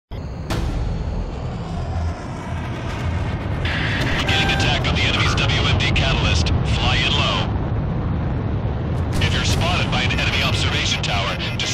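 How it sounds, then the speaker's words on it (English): Fighter jets taking off in Ace Combat 6, a sustained loud engine roar with rising whines and tonal bursts layered over game music and radio voices. "Garuda team, time to take off."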